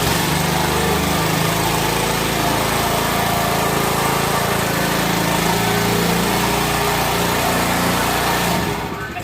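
A motorized brush scrubbing machine for cleaning carpets and floors runs close and loud with a steady, buzzing engine drone that holds evenly, then cuts off at the end.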